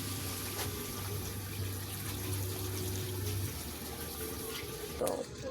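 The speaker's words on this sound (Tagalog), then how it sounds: "Lagay ko na yung pangalawang gata." Second portion of coconut milk poured into a cooking pot that already holds sautéed ingredients and papaya, a soft steady liquid trickle lasting several seconds, faint and close.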